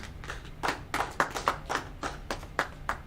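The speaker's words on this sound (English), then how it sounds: "Alright, clap it up." About ten sharp hand claps ring out in a steady, even rhythm, close and fairly crisp against a faint background hum.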